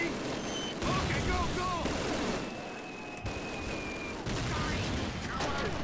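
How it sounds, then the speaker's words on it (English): Dense machine gun fire and scattered gunshots in the World War II video game Call of Duty during the Stalingrad landing, loud and continuous, with a voice talking over the battle. "I've noticed that the machine guns have not stopped firing."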